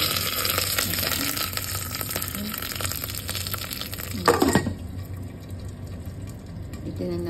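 Popcorn cooks in a covered pan with a dense hissing sizzle throughout, a short clattering burst near the end, and then a quieter bubbling hiss.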